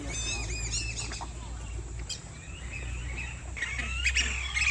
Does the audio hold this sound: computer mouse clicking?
no